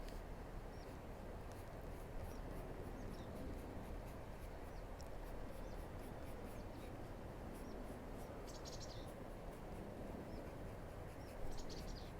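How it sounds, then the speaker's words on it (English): Faint bird chirps and twitters come through in the distance, sparse and intermittent over a steady wash of outdoor background noise. "you hear some birds, if you're lucky. They're in the background now."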